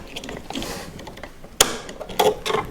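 A presser foot unclipped from a Pfaff 720 sewing machine, a sharp mechanical click near the middle followed by a few smaller plastic-and-metal clatters close by, with no talking.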